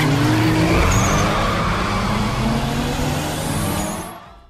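Street racing cars from 2 Fast 2 Furious roar and skid as tires squeal, a loud, sustained close engine wash that holds steady and then drops away at the end.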